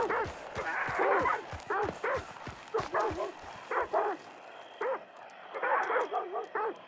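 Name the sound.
dogs barking in the video game Hunt: Showdown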